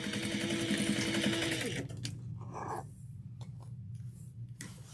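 A sewing machine back stitches a tote bag seam in a rapid, buzzing run lasting under two seconds, followed by quieter handling sounds and faint clicks.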